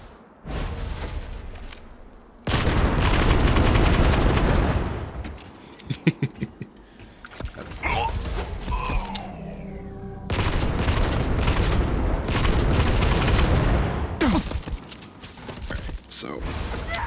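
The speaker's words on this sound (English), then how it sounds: "that's with the sound effect and the burst and everything, this gun is very fun to shoot" Burst-fire shots from the Roger 45 pistol mod in Starfield, loud blasts in clusters with booming, whooshing game effects between them, a voice talking over parts of it.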